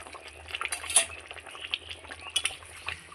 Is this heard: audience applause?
no